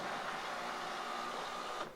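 Electric seat motor in a Mercedes W124 or W126 non-memory front seat, a steady close whirring hum that runs for about two seconds and then stops.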